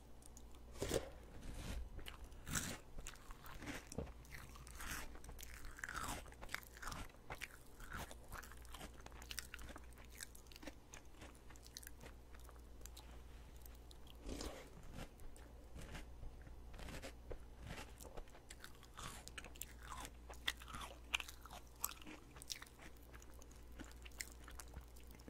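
Crunchy honey ring rice cereal eaten with milk, close-miked binaural chewing with steady crunches and bites repeating throughout, no talking.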